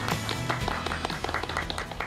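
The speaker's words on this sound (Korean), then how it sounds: "박수" A gathering marks the opening of a Goodwill store branch in Ilsan with steady, dense clapping over about two seconds, moderately loud against a low hum in the background.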